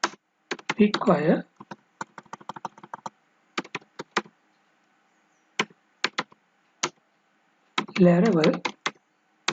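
Rapid, close computer-keyboard typing enters a Composer command for a Laravel 6 project, in bursts of quick key clicks broken by short pauses, while someone briefly speaks twice over the keystrokes.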